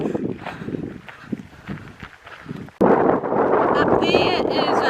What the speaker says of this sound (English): It's windy enough, the cloud's moving pretty quickly.